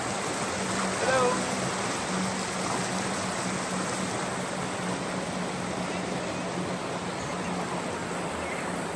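Steady broadband rush of the Cascade de Saint-Même waterfall near Grenoble, continuous and fairly loud, with no pauses.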